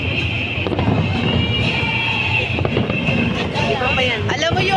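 Fireworks at a Philippines versus Spain fireworks competition, a continuous crackling and popping display with some louder bursts, heard under crowd chatter and nearby talking voices.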